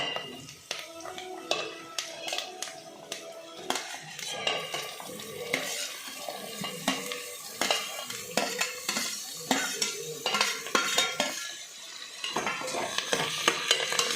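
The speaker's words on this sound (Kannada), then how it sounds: "ಸ್ವಲ್ಪ ಫ್ರೈ ಆಗಿದೆ" Ingredients frying in a pan for radish sambar, with frequent clattering stirs of a metal spoon against the pan over a gentle sizzle, close and irregular, continuing throughout.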